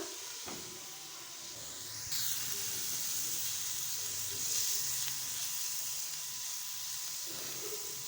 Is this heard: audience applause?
no